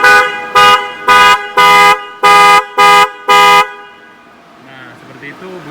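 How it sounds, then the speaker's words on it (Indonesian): An aftermarket Macho horn on a 2011 Toyota Camry 2.4V honks seven times in quick bursts, loud and close, followed by quiet background. "Itu bunyi klaksonnya"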